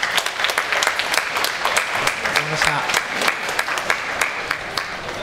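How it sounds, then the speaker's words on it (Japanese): Applause from the hall at a high school judo tournament, a moderate crowd clapping in a steady, crackling patter that stays even for several seconds, with a brief voice underneath. "会場の皆さん、大きな拍手をお願いします。"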